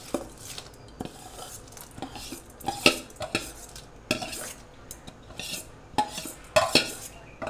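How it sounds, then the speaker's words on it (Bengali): Gobindobhog rice, mung dal and boiled chana dal being tipped into a metal pot and stirred for khichuri, sharp metallic clinks and scrapes of a spoon against the pot in irregular bursts. "এখন আমি এই গোবিন্দভোগ চাল আর মুগ ডাল আর ওই ছোলার ডাল, সিদ্ধ ছোলার ডাল আমি দিয়ে দেবো এক এক করে।"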